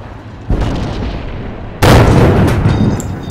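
Tank cannon fire in a video game featuring the Cromwell tank: two heavy booming blasts, the second louder and closer, each followed by a sustained rumbling roar, with no talk.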